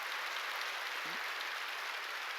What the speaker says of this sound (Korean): 박수 치려면 세게 치라고요.